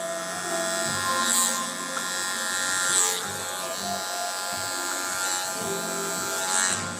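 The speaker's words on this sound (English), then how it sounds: "Let me show you the 180 with a freehand clipper." Electric hair clipper buzzing steadily while cutting hair freehand in a barbershop, a close continuous hum with slight changes in pitch as the blade moves through the hair.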